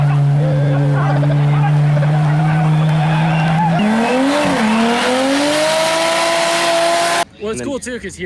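A Holden VL turbo roars through a loud burnout at LZ World Tour Canada, engine droning steadily then rising in pitch as the tyres squeal and smoke, close and intense, ending in an abrupt cut to crowd noise.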